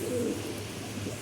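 A pigeon coos softly in low, throaty murmurs at a market stall selling fancy pigeons, faint against steady background noise.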